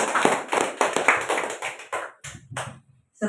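A church congregation claps for Jesus during a worship service, a burst of dense clapping that thins into scattered claps and stops within a few seconds.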